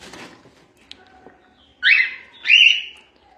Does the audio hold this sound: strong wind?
no